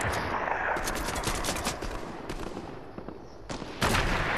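Gunfire in the Fortnite video game, a sniper shot among bursts of shots and explosive cracks that come one after another, loud and close, with a sharp heavy blast near the end.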